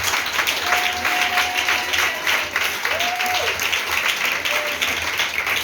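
A church congregation at a Sunday service clapping together, a dense, sustained wash of applause filling the room, with a few voices calling out over it.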